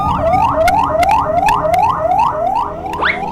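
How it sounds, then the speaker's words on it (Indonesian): A cartoon ambulance siren wails loudly and steadily in rising, repeating sweeps, about eight cycles in quick succession, close and alone with no talking. "Minggir, ada mobil ambulans mau lewat nih."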